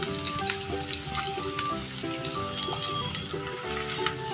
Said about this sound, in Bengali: আদা এবং রসুনটাকে কিন্তু পেঁয়াজের সাথে একটু ভালো করে ভেজে নেবো